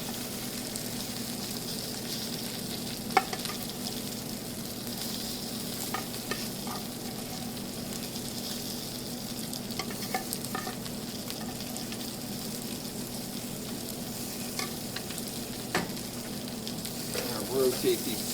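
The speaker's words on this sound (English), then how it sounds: "Rotate the asparagus around, get them a little bit of color on the other side." Asparagus searing in a hot pan, a constant close sizzle with light scattered clicks as the spears are moved, over an even background hum.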